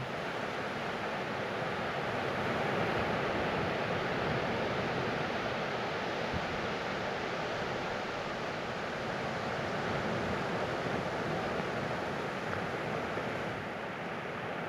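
Steady ocean surf washes in a continuous broadband roar, constant and enveloping with no distinct breaks, and no voices over it.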